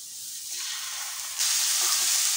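Dalia upma ingredients fry in a pan with a steady sizzle, which jumps louder and brighter partway through as more go in and are stirred.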